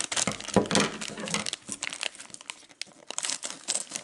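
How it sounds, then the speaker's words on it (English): Sealed plastic packets of LEGO Disney minifigures are torn open at the tops, producing nearby bursts of crinkling and crumpling plastic over about four seconds, with no talking. "I'm just going to open the tops."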